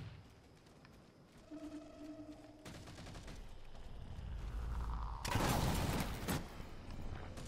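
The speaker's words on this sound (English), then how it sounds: "Fuel rod cannon." Halo 4 fuel rod cannon fire: bursts of rapid blasts and a heavy explosive discharge, with whirring tones between them, fairly quiet overall.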